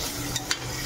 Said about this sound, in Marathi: इथे मी आलं लसणाची पेस्ट टाकून घेते।